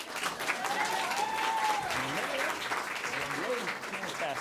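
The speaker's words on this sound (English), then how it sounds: "Keep it clapping." Audience clapping continues for award winners at an Eddie Award ceremony, a steady wash of hands under a voice talking over it now and then.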